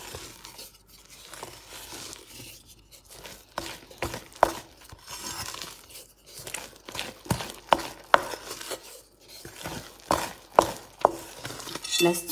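Crêpe batter of milk and flour being mixed by hand in a bowl, close by, with irregular clinks and scrapes of utensil against the dish and soft wet stirring, loudest in short bursts.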